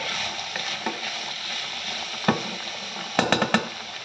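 Food with a sprinkling of parsley sautéing gently in a pan, a steady close sizzle with a few scrapes and clinks of a utensil stirring, bunched near the end.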